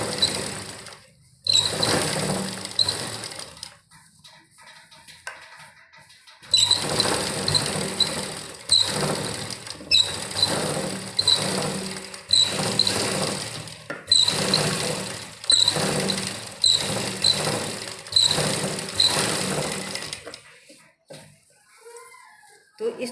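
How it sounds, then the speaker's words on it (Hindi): A sewing machine runs in repeated bursts of rapid stitching while a second line of stitches is sewn onto a frill for a baby frock, with brief pauses and someone talking between runs. "एक सिलाई लगाने के बाद हमें दूसरी इससे थोड़ी दूरी पर लेके एक सिलाई और लगानी है"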